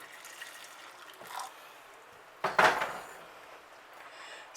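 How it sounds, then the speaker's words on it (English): Hot water from a kettle pours briefly into a cake mixture, a short splashing gush in the middle after a faint earlier clink, with otherwise quiet kitchen surroundings. "the next thing we want to do is put some water in from the kettle"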